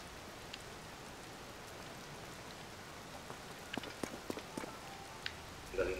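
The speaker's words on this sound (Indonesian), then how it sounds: "Astaga, ini malah hujan terus lagi." Steady rain falling in The Legend of Zelda: Tears of the Kingdom, a soft continuous patter with scattered sharper drops and light footsteps toward the end.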